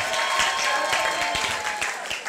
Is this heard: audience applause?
yes